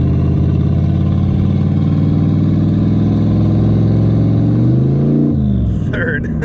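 A truck engine backed by a built 4L80E transmission revs up strongly and loud, its pitch climbing steadily, then drops sharply as the gearbox shifts into second, heard from inside the cab.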